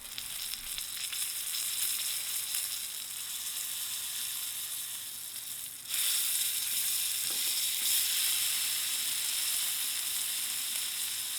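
Thick prime picanha steak searing on a Ninja Woodfire Grill, a steady bright sizzle of hot fat and juices that swells louder partway through, close and continuous with no talk.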